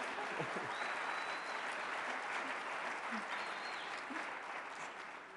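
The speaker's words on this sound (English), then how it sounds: "Please give her applause." A conference audience at CPAC 2021 applauds in a large hall, a sustained broad clatter of many hands that holds steady and then tapers slightly toward the end.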